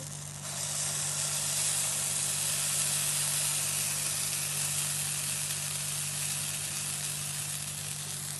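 Wheat and jaggery pancake batter poured onto a hot tawa gives a steady, even sizzle and hiss that holds for several seconds, close and uninterrupted, with no talking.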